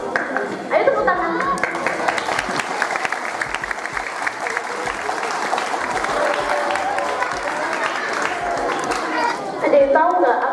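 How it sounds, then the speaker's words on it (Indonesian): Children clap their hands together during a storytelling session, a dense, steady burst of applause lasting several seconds, with children's chatter and voices mixed in. "Ayo tepuk tangan."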